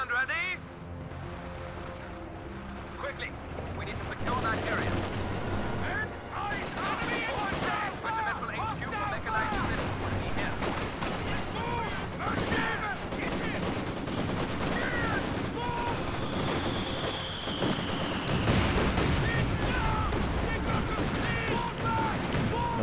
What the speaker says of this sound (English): There's a Bofors gun.